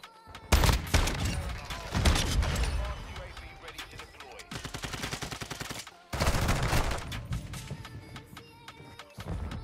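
Call of Duty MW2 gunfire, loud and close, in dense automatic bursts broken by short gaps, with rapid sharp shots between the heavier volleys.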